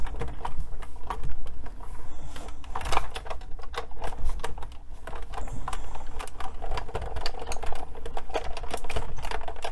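Manual die-cutting machine cranked through with a paper stamping bundle, a steady close ratcheting clatter of fine rapid clicks running without pause.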